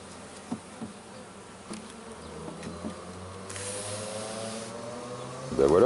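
Bees buzz and drone in a dense, steady swarm close by around an open hive, with a few louder individual bees passing near and a rustle at the end.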